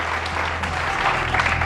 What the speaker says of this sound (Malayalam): അതിനൊരു വലിയ കയ്യടി വേണം കേട്ടോ